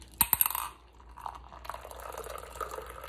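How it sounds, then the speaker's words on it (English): A drink poured into a glass opens with a few sharp clinks, then a soft splashing, fizzing pour trails off over a few seconds, close and fairly quiet. "listen to this pour"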